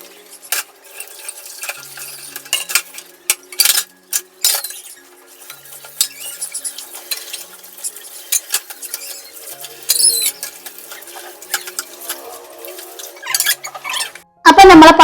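Pots and dishes clatter and clink in quick irregular bursts as they are washed, with scraping and splashing between the knocks.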